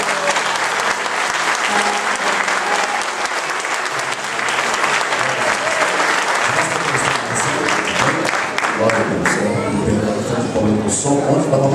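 A congregation in a hall during a church missions congress gives a long round of applause; dense, loud clapping with a murmur of crowd voices, continuing steadily for the whole stretch.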